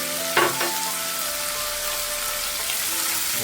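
Smoked duck being stir-fried with minced garlic in a pan gives a steady, close frying sizzle, with a couple of brief stirring scrapes near the start and no voices.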